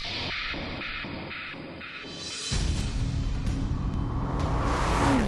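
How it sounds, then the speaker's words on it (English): A Jaguar F-Type V6 convertible engine revs hard and roars loudly through twin exhausts, a rough, surging growl that builds and stays intense, with no voices. "the twin exhausts sound almost race car loud"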